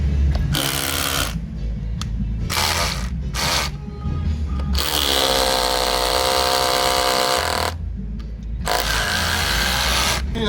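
Loud bursts of a Dongcheng DCZC 13 cordless rotary hammer with an SDS bit drilling concrete, starting and stopping several times with long stretches of steady grinding, close by.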